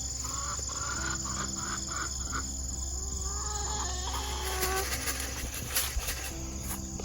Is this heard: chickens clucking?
yes